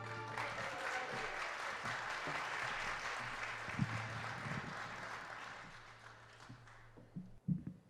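An audience at a women's exhibition and fundraising event applauds Mehrdad after his songs, sustained clapping that thins out near the end with a few scattered claps and a low hum beneath.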